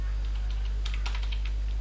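Quiet, rapid typing on a computer keyboard while writing Java code, a loose run of light key clicks with a couple of brighter taps, under a steady low electrical hum.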